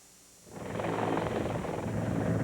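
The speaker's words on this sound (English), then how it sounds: "A 408 Squadron helicopter crosses the border into Kosovo." A 408 Squadron military helicopter flying over Kosovo swells in from quiet into a loud, steady rotor and turbine roar that holds for the rest of the moment.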